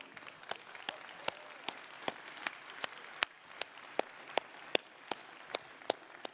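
An audience at the Xiaomi 13 launch event applauds, with a steady spatter of clapping and a few louder individual claps standing out, moderately distant and fairly quiet, with no voices.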